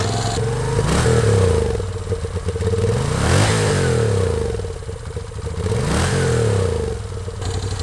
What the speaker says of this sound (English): that V-twin sound that you're not gonna get from anything else